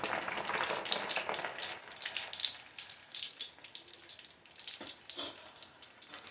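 Garlic cloves frying in hot oil for avakaya mango pickle give a steady, close crackling sizzle with bursts of spattering pops and no voices.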